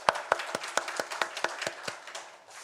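A congregation at a Sunday church service claps in a brief burst of distinct, fairly faint handclaps at a quick, steady pace, thinning out and fading after about two seconds.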